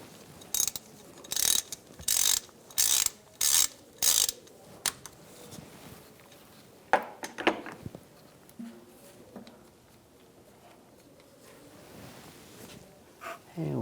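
Ratchet with an 8mm hex socket loosening the front differential fill plug on a 2011-2018 Ram 1500 3.6L V6, heard as six sharp, evenly spaced bursts of clicking up close, followed by scattered clanks and quieter handling noise.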